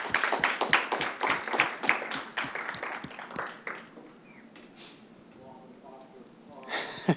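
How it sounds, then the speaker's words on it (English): Audience applause at a live JavaScript conference podcast taping, sharp distinct claps for the first few seconds that thin out and fade into room noise, with a few faint scattered claps afterward. "Let's give them a round of applause."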